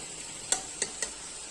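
Garlic beef frying with tomatoes and green chillies gives a steady, bright sizzle, broken by three quick clicks of a utensil against the pan.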